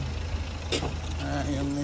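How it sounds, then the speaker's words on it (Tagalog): A mission car pulls up at a youth winter camp in Catania, Sicily, its engine a low steady rumble close by, with a brief burst of noise partway through while people talk nearby. "Kasama namin itong sasakyan ng mission."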